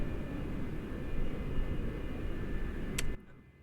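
A small single-engine plane in Microsoft Flight Simulator drones with a steady, even engine hum that keeps a constant level, then drops suddenly to a much quieter background after a short click.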